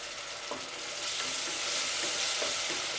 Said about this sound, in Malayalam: ഇതിപ്പോൾ ഒരു 30 സെക്കൻഡ് ഒന്ന് ചെറുതായിട്ടൊന്ന് വഴറ്റി കൊടുക്കണം.